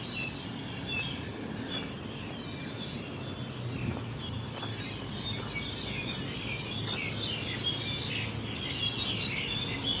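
Faint bird chirps and tweets scattered over a steady outdoor background hiss, distant and continuous without any talking.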